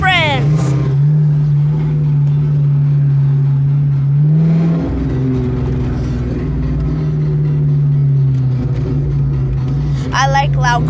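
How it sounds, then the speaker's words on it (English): A loud car engine, said to sound like a Lamborghini, holds a deep steady drone that rises sharply in pitch around the middle before settling back, heard close up from inside the car as people talk over it. "I like loud cars like this."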